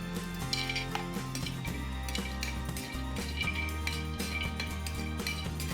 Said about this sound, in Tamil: இதெல்லாம் நான் இப்போ வறுத்து பொடி பண்ண போகிறேன் ஃப்ரை பண்ணுறேங்க கூடவே மஞ்சளும் போட்டுக்கலாம்